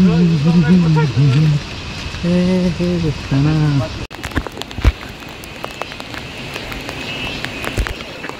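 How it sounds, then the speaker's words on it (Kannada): A voice sings or hums at first, then steady rain patters with scattered sharp drops and clicks close by, near Soormane Falls, Kudremukh, Karnataka. "ಮಳೆ ಬರ್ತಾ ಇದೆ, ಮಳೆನಲ್ಲೇ ಹೋಗ್ತಾ ಇದೀವಿ."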